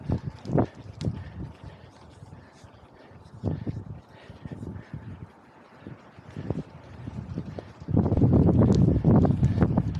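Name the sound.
headwind while cycling uphill on road bike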